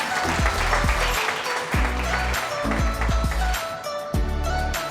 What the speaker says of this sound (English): Clap for all of them.